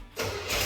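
A 1969 Yenko Camaro muscle car's engine catches and roars to life, a sudden loud broadband surge after a brief quiet moment, building further toward the end.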